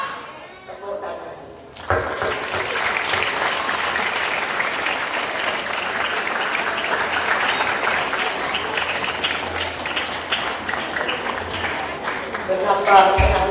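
A large audience at a Maulid Nabi school celebration bursts into loud, sustained applause after a speech, dense clapping filling the hall for over ten seconds, with a voice heard briefly just before.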